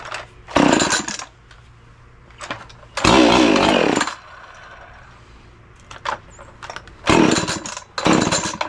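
An Echo chainsaw engine being pull-started: several loud bursts of cranking and brief sputtering catches, separated by quieter gaps, with no talk over it.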